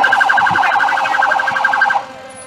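An emergency vehicle siren wails loudly in a fast, repeating warble at a Christmas parade of lights, holding steady for about two seconds before cutting off and leaving faint background noise.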